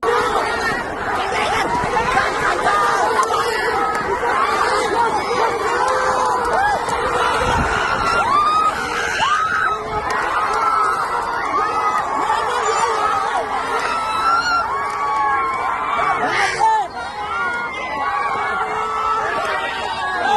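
A dense crowd of spectators at a bullfight, with loud continuous babble, shouting and occasional cheers and laughter filling the scene throughout.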